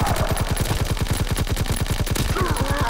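Chatellerault light machine gun fired in a WWII video game, one loud sustained burst of rapid, evenly spaced shots across the whole stretch.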